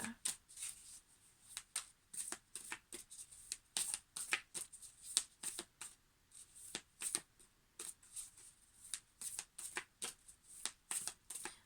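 A deck of angels and ancestors oracle cards is shuffled by hand, producing repeated crisp riffling bursts in an uneven rhythm, close and fairly quiet, with no voice over them.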